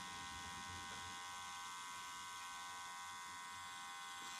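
A permanent makeup machine used for ombre powder brows hums with a steady, thin electric buzz, quiet and continuous with no talking.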